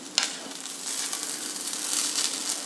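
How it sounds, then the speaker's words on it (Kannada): Fenugreek poha (menthe avalakki) frying in a pan with its tempering: a steady close sizzle with crackling and scraping stir sounds, and no talk. "ಚೆನ್ನಾಗಿ ಹುರಿಬೇಕು, ಚೆನ್ನಾಗಿ ಬಿಸಿ ಆಗಬೇಕು ಅವಲಕ್ಕಿಯೆಲ್ಲ"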